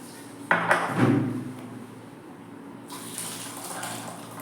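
Excess water is drained from a pot of Pokkali rice kanji, pouring out in a quick splashing gush, then settling into a steady, softer running stream.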